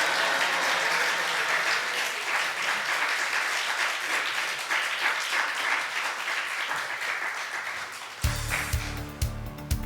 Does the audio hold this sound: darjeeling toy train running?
no